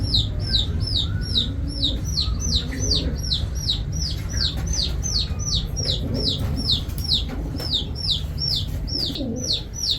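Racer pigeons cooing and fluttering in a loft, with a dense, continuous chorus of repeated calls and chirps close by, steady throughout over a low background rumble.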